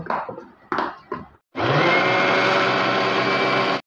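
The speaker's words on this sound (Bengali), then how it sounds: "এখন এটা আমি ব্লেন্ডারে মিক্সড করব।" An electric blender whirs loudly for about two seconds, mixing liquid zebra cake batter with vanilla essence, a steady close motor roar that cuts off abruptly, preceded by a few short knocks and clatters.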